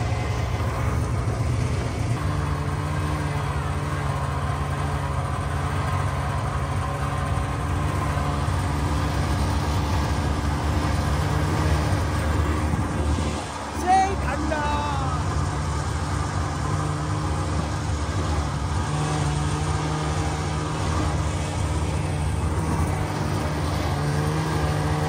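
A snow bike engine idles in the snow at Gulmarg, Kashmir. It gives a steady, close, low mechanical drone that runs throughout with only a brief dip partway.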